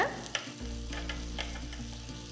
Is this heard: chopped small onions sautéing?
yes